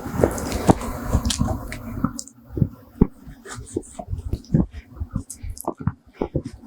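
A knife trims a raw salmon fillet on a cutting board, producing soft wet squishes and short scraping cuts in an irregular rhythm, close and fairly quiet, with occasional tapping.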